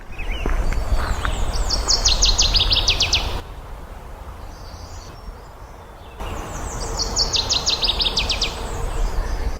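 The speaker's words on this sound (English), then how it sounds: "There's my northern water thrush." A northern water thrush sings two bright, descending bursts of loud chirping notes from nearby woodland in Maine, separated by a quieter pause, over a low steady background rumble.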